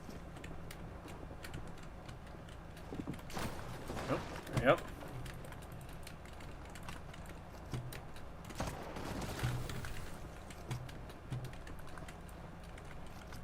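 Computer keyboard clicks during a Fortnite stream, scattered soft taps with a couple of denser bursts, heard close under brief spoken words and game noise.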